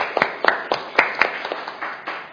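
Studio audience applause during a Korean media policy debate, a modest round of distinct, fairly close hand claps with sharp individual slaps over a softer clapping bed.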